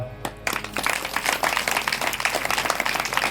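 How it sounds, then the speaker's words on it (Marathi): A gathering at a Ram Katha devotional discourse claps for a singing husband-and-wife pair, a brief sound at the start giving way to steady crowd applause that continues to the end. "गायक पती पत्नींसाठी टाळी वाजवा."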